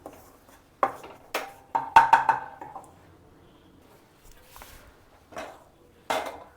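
Wheat flour halwa is scraped and tapped from a pan onto a metal plate, a series of sharp, close clinks and knocks spaced irregularly with quiet gaps between.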